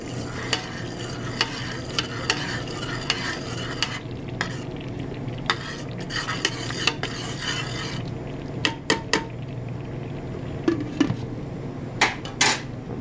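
Meatballs and sauce are stirred in a pot, a continuous close scraping and rubbing of a utensil against the pan with a soft sizzle beneath and a few sharper knocks near the end.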